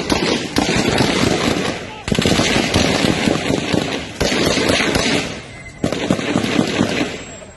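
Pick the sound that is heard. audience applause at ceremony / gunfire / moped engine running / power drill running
gunfire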